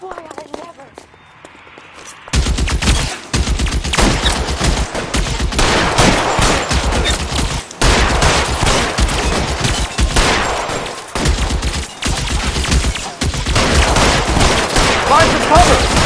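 Dense video game shootout gunfire, rapid overlapping shots cracking continuously for many seconds, loud and close, with voices shouting among the shooting.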